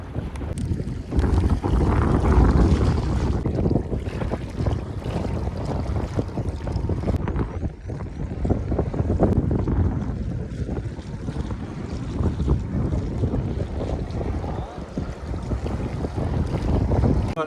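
Strong wind sweeps through an open village setting, buffeting the microphone in loud, gusty bursts that rise and fall throughout, with no talking.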